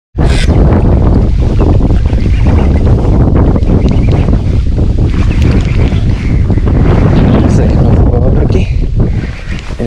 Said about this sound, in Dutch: die wind roer so bietjie is koud